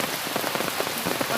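Rain falls steadily on a surface in a village setting, a dense, continuous patter of drops, close and moderately loud, with no voices.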